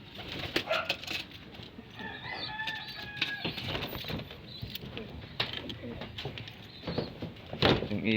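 Racing pigeons arriving back at the loft after their first toss. Soft cooing and brief wing flaps come from nearby, mixed with rustling and scattered knocks, and a few high chirps sound in the middle.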